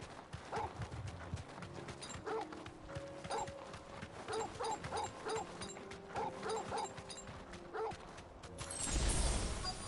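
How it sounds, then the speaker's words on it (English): The dog Torgal barks in the video game Final Fantasy XVI, giving a series of short, moderately faint barks and yips with galloping hoofbeats, before a louder whoosh at the end. "Notice that Torgal actually barked for that."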